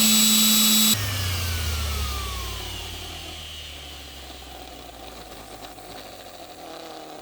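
A budget orbital sander roars loudly and close for about a second, then switches off and spins down into a fading whir over several seconds.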